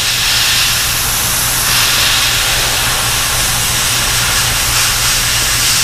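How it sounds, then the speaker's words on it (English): Airbrush spraying opaque white paint onto a fishing lure, a steady close hiss of air and paint that runs unbroken and loud throughout. "just come in close with your airbrush"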